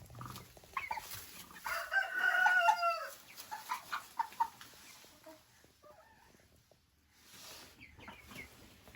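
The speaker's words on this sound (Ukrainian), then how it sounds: "Лігорни." Leghorn hens cluck repeatedly around a rooster's loud crowing, the farmyard calls close and busy with short pauses between bursts.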